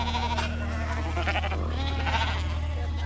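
A sheep flock on a mountain bleats in several overlapping calls over a constant low drone, close and fairly loud, with no talk.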